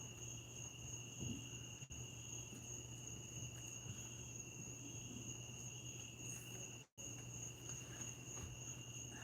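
Crickets chirp outdoors at night at the Outer Banks, North Carolina, as a steady, continuous high trill. A low hum sits underneath, with one brief dropout.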